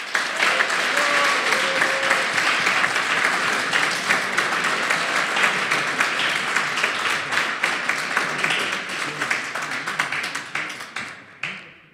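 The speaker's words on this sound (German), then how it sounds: "Und zum Schluss euer Applaus für Guillem Mostel von der TUM und der Bionik." Sustained, dense applause fills a hall at a science slam, many hands clapping steadily and loudly for about eleven seconds before thinning out and fading at the end.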